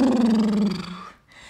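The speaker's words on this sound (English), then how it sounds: "Exhale, blubber the lips." A person exhales forcefully while vibrating the lips in a loud, close, buzzing blubber during a yoga session, the flutter lowering in pitch and fading out after about a second.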